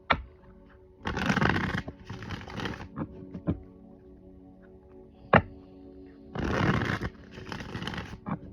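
Playing cards shuffled in two quick riffling bursts, separated by light taps and clicks of the deck, close and fairly quiet.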